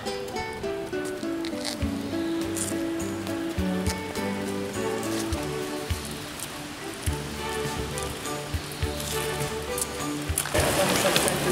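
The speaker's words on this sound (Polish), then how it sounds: "Uciekliśmy przed deszczem i burzą." Heavy rain pours down during a summer thunderstorm in a castle park, a steady wash of drops running under continuous voices and tonal background sound, growing louder and hissier in the final second.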